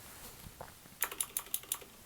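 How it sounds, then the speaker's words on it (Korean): Six or so crisp keystrokes tap on a computer keyboard in a quiet room, evenly spaced and close by but soft, with no talking over them. "여기다 다시 타이핑을 친다면"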